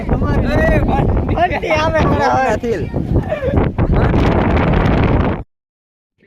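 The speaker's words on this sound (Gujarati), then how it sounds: "પવનનો અવાજ આવતો હોય છે" Strong wind on a hilltop at Gop hill station roars and buffets loudly and steadily, nearly drowning out voices speaking close by, then cuts off abruptly.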